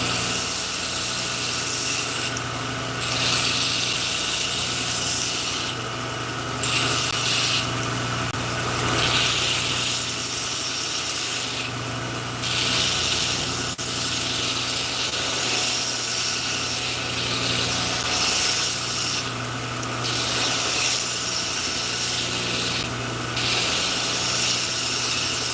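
Power tool grinding chip marks out of a wooden Bowie knife handle, a loud steady whine with rough rubbing surges that rise and fall in repeated passes, with no talking.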